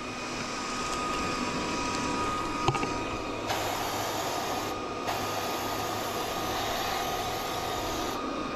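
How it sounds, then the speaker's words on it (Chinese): A suction fan runs steadily while drawing in hornets at a nest, giving a constant loud broadband whir with a brief thump partway through and no talk. "我的风扇是往里面吸的"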